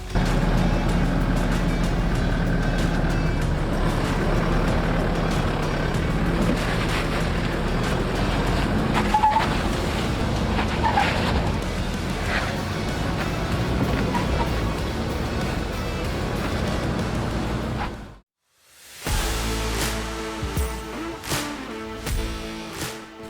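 An off-road vehicle grinds over a rocky pass, its engine rumbling loud and constant under wind buffeting, then cutting out briefly before resuming with rattling and knocking.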